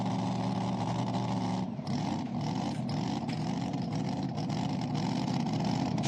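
A heavy, roaring engine from a mini rod pulling tractor at a tractor pull at 300 Raceway in Farley, Iowa, sustained and loud with a brief dip before it surges on steadily.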